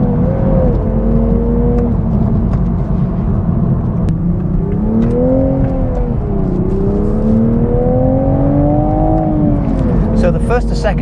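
Engine of a 2023 Toyota Supra with a manual gearbox pulling through the gears, revs rising and falling steadily with each shift, loud and close from inside the car for the whole stretch, with a voice talking over it.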